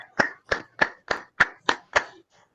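Seven sharp hand claps in a steady, even rhythm, close and fairly loud, followed by a short silence.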